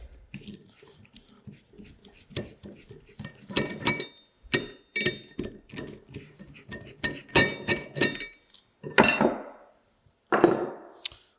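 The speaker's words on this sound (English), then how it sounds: "Now we're going to grab our 12mm socket, and we're going to remove" Metal clinks and taps from a 12mm socket as mounting hardware is taken off a Subaru EJ SOHC engine's cam carrier, in irregular close bursts with a few brief pauses.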